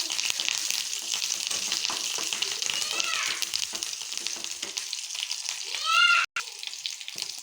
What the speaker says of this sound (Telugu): పచ్చిమిర్చి వేగిన దీంట్లో కరివేపాకు వేసుకోవాలి